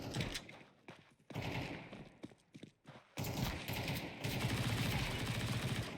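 Gunfire in Counter-Strike 2 on the Dust2 map: loud, close bursts of rapid shots broken by short pauses, then a denser sustained volley, with no voices.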